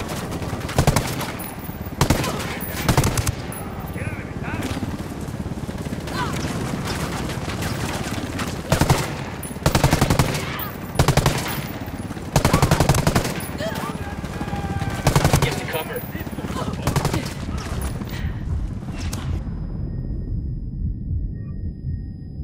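Gunfire in the video game Ghost Recon Wildlands, with sustained bursts of automatic fire and repeated rifle shots, loud and close, running nearly continuously and then cutting off abruptly near the end.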